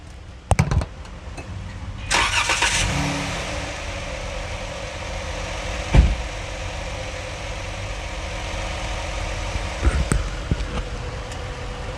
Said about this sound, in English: Let me turn the engine off.